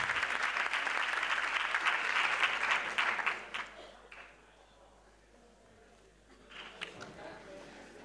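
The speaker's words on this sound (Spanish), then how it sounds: "Venga, un aplauso también para Cintia." Audience applauding Cintia during a carnival proclamation event in San Roque, dense clapping that fades out after about four seconds, leaving quieter room noise with a few scattered claps later.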